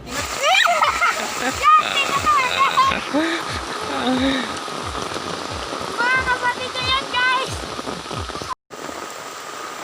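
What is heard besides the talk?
rain falling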